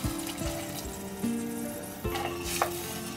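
Water poured into a pan of okra cooking for Chettinad vendakkai mandi hisses and sizzles loudly, with stirring and faint liquid sounds running steadily throughout.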